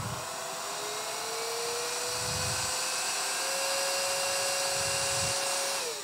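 A wet and dry cordless stick vacuum runs its self-cleaning program, giving a steady high motor whine with a rising tonal pitch and periodic low gurgling surges of water, close and continuous with no talking.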